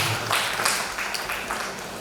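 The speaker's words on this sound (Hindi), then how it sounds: "सौरभ सर के लिए ताली दीजिए।" An audience gives a short burst of applause at an in-house training session, a dense patter of clapping filling two seconds with a murmur of voices beneath.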